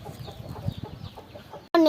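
Soft clucking of roosters in a quiet outdoor setting, faint and steady, followed by a sudden louder burst right at the end.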